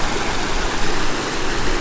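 River water rushing steadily at a stepping-stone river crossing, a loud, close, continuous broadband flow with no voices.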